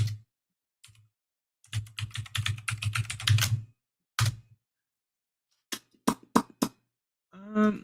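Typing on a computer keyboard: a run of rapid clicking keystrokes, then a few separate heavier key taps, with a brief voice sound near the end.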